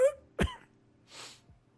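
A person imitates a character's cough during a tabletop role-playing game session, giving a short rough burst followed by a breathy hack, close to the microphone and otherwise quiet.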